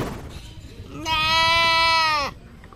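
An injured goat limping and bloodied in Cabanatuan City, Nueva Ecija, gives a single loud, close, wavering bleat lasting over a second, preceded by faint background voices.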